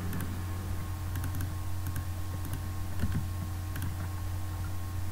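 A password being typed on a computer keyboard to log in, with light, rapid key clicks over a steady electronic hum that fills the whole stretch.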